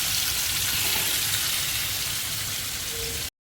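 Large fish pieces fry in a generous amount of hot oil, a loud, dense sizzle that holds steady for a few seconds before cutting off abruptly.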